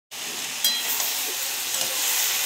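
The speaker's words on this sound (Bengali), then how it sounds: "কপিগুলো খুব ভালো ভালো করে ভাজা হয়ে গেছে" Shredded cabbage sizzles steadily in a hot pan on a home stove, a dense, close frying hiss with a few faint scrapes of stirring and no voices.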